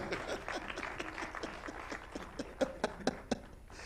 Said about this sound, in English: Round of applause for Wanjiro.